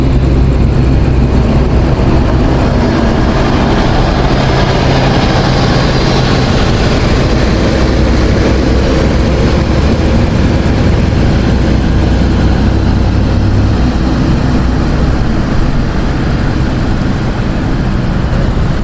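A KA Semeru passenger train rolls through Gambir station in Jakarta, a loud, steady low rumble of engine and wheels that persists for the whole stretch with no break and no talk.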